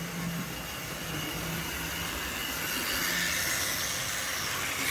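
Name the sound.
model steam locomotive running on a train set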